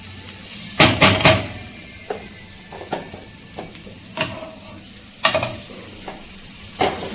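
A paneer bread roll fries in butter on a pan with a close, continuous sizzle. Irregular scrapes and knocks of stirring and turning break through it.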